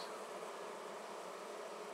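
Honey bees buzz in a steady, dense drone right at the entrance of a flowerpot swarm bait hive, the close, continuous hum of many insects filling the whole moment with no voices.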